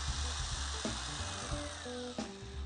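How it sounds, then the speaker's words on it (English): A power drill whines close by as it bores holes through stacked plywood bottom panels for a stitch-and-glue kayak, the pitch shifting as the bit cuts and briefly stops near the end. "it saves a lot of time because I can drill them together."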